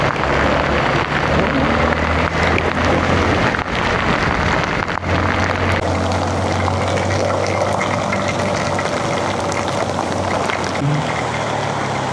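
Steady heavy rain pours over flood water, a dense continuous hiss with a low engine-like rumble underneath throughout, loud and unbroken.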